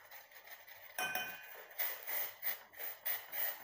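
A spoon repeatedly clinks and scrapes against a vessel in a steady rhythmic stirring of salt into water, fairly quiet and close.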